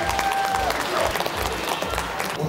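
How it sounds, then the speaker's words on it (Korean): Steady applause from a crowd at a bodybuilding competition prize draw fills the clip, a dense patter of clapping with a faint tone briefly ringing through. "자박수합시다"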